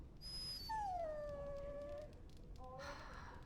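A dog whimpers in the video game Dragon Age Origins, with a few high, drawn-out whining tones, one long falling whine, and then a shorter whine near the end, heard clearly against a steady background hum.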